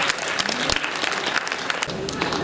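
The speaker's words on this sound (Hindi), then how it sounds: "इनके लिए भी एक बार 2000 तालियां हो जाएंगी।" Applause from a gathering at a birthday cake-cutting ceremony in Hardoi, welcoming a journalist guest; brisk, dense clapping from many hands, close and loud, with sharp individual claps standing out and a voice faintly underneath.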